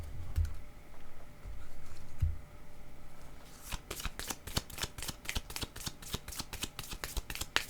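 Playing cards shuffled in a quick riffle of crisp, rapid flutters for the final few seconds, preceded by soft handling noise and low thumps, close and clear with no voices.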